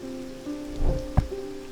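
Rain in the video game Strange Antiquities, a steady patter under soft sustained game music, with a few heavier drop impacts.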